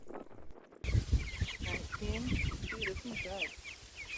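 Chickens and young chicks in an elevated brooder, steady clucking and peeping close by with overlapping calls and rustling, a voice briefly among them.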